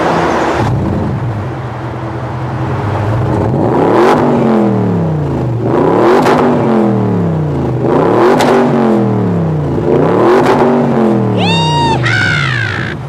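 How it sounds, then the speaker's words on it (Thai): A Bentley Continental GTC engine fitted with a Remus exhaust revs hard in repeated bursts, each rise climbing and falling back to a deep idle, loud and close; a faint higher whine sounds near the end. "เจ้าของเก่ารถคันนี้เนี่ยยังไปใส่ท่อของยี่ห้อรีมูสมาอีกด้วย ว้าว เสียงกันดูว่าเพราะแค่ไหน"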